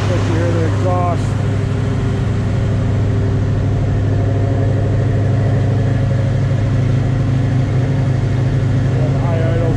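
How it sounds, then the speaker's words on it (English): A 1970 Ford Mustang Mach 1 fastback with M-Code engine and 5-speed holds a steady, loud high idle while still warming up, a constant rumbling drone throughout with a person talking over it. "And high idles on as it's still coming up to temperature, warming up here."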